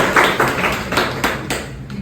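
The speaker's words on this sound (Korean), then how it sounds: "우리 박수 한번 칠까요?" A small group at a company vision workshop claps for about two seconds, a loose patter of close, bright hand claps with no voices.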